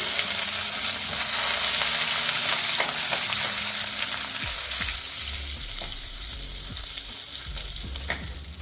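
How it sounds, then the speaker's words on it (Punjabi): Spices fry in a pan over a low gas flame for sweet-sour pumpkin halwa, a loud continuous sizzle with occasional stirring scrapes and soft knocks. "ਮਸਾਲਿਆਂ ਨੂੰ 2 ਮਿੰਟ ਆਪਾਂ ਇਹਨਾਂ ਨੂੰ ਭੁੰਨ ਲਵਾਂਗੇ"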